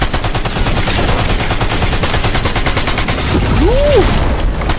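Rapid SMG gunfire in a shooter video game, the Harbinger SMG, a dense unbroken rattle of shots running loud and steady throughout, with a brief whistling tone near the end.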